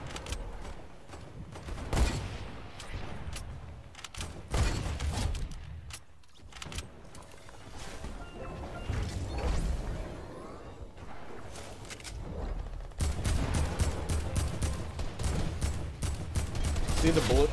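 Bursts of gunfire from the Fortnite video game, repeated loud volleys and rapid tapped shots with short pauses between, growing denser toward the end over game sounds.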